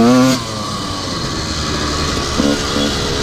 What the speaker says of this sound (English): Down this hill, if I don't touch the clutch, it's gonna bog down unless I go really fast.